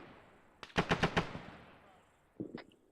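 A quick burst of four or five gunshots cracks out in a military platoon training video game, fairly close and sharp, followed by a lone shot or two after a pause.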